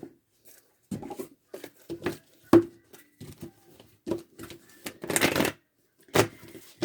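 A deck of cards being shuffled in repeated short riffling bursts, close and fairly quiet, with brief pauses between each run of card flicks.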